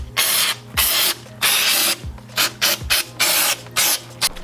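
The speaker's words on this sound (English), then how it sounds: "And we'll clean it off with a little shot of brake cleaner." Brake cleaner sprayed onto a Dana 35 axle cover in short repeated bursts, about nine hissing blasts of varying length with brief pauses between them, close and fairly loud with no talking.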